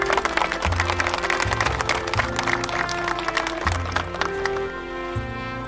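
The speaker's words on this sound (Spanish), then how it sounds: "Démosle un aplauso, por favor" Church congregation claps and cheers for the Lord, a loud, steady wash of applause close by with rhythmic low thumps underneath, easing slightly toward the end.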